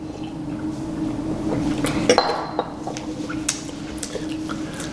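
Two very thin glasses tapped together lightly in a toast, a single bright clink ringing briefly over a faint steady background hum, with a few small scattered knocks afterward.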